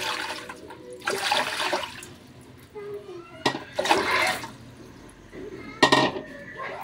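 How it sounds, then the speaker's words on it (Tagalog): Water is poured into a cooking pot while pork belly is being prepared. Three short splashing pours are heard, with faint clinks of pots and quiet voices in the gaps between them. "Ilalagay natin tubig."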